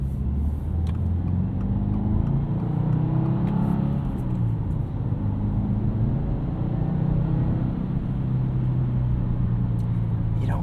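A 2025 Subaru WRX tS with a boxer engine on a road trip: a steady, muted low engine rumble and road drone heard from inside the car, continuous and fairly loud, with no speech.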